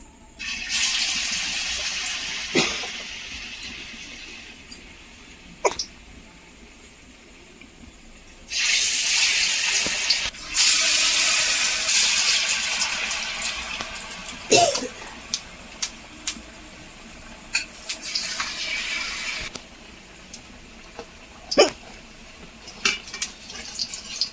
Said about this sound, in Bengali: এবারে কিন্তু আমি এই গরম তেলের মধ্যে দিয়ে দেবো